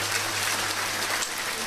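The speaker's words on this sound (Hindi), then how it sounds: "ताली बजाकर धन्यवाद दो माता को।" A large crowd at a religious gathering in Nadi, Fiji claps together in thanks to the goddess, a dense, loud, sustained wash of applause with a voice faintly underneath.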